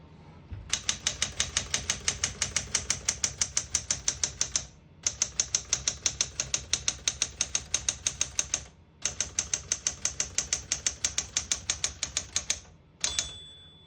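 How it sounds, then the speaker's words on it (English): Typing on a 1966 Smith-Corona Super Sterling portable typewriter: rapid, crisp keystrokes in three long bursts separated by short pauses, close and clear, ending with a single ring of the margin bell. "We're going to keep it on single and finish typing."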